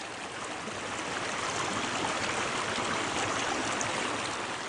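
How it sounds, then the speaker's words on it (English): A spring creek flows in a continuous broad rush of water, steady and fairly loud, heard alone without voices. "And the creek coming down."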